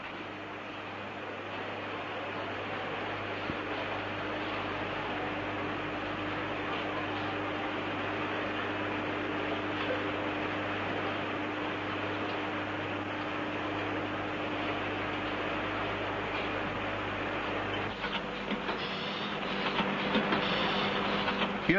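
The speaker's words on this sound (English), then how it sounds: "a machine has been developed which not only automatically cuts and shapes the heaters, but also carries out the operations of coating and glowing." Automatic factory machine cutting, shaping and coating vacuum tube heaters on the production line, a steady loud mechanical whir and clatter throughout with a tonal hum, shifting slightly near the end.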